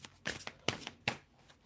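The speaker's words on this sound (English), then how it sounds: "I'm using the Ancestral Path Tarot, which are really big cards and they're hard to shuffle." Large Ancestral Path Tarot cards being shuffled by hand: a handful of quick papery riffles and slaps in an uneven rhythm, close and fairly soft, with no talking.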